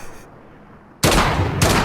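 Heavy gunfire in the video game Modern Warfare 2019 erupts suddenly after a quieter moment, loud booming shots with a brief dip before another blast.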